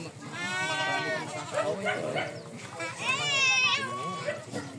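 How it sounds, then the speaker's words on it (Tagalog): Several goats bleating nearby, their wavering cries overlapping with people talking and calling out. "Oh, daming kambing."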